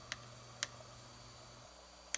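A fuel injector on a junkyard 5.3 engine, fitted to a 1955 Buick Special build, clicks as it is cycled on and off with a hot lead: three sharp, separate ticks spaced roughly half a second to a second and a half apart under a steady workshop hum.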